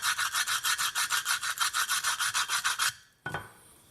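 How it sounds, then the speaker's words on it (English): A rubbing stone is worked back and forth along the cut edge of a subway tile in about seventeen quick, even, rasping strokes. Then it stops, and one short knock follows. "get a rubbing stone and just stone that a bit just to smooth it off"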